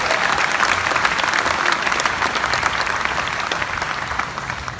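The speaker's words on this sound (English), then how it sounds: "And how about a round of applause for our fantastic drummer from Scottsdale, Arizona, Staff Sergeant Wes" A concert audience at Epcot gives a loud, dense, sustained round of applause for the drummer of the U.S. Army Field Band's Jazz Ambassadors, tapering slightly toward the end.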